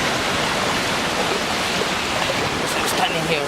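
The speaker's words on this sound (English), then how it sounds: "Very fast water." Fast-flowing floodwater surges down a street in Catania, Sicily, in a dense, constant roar with a few faint higher sounds near the end.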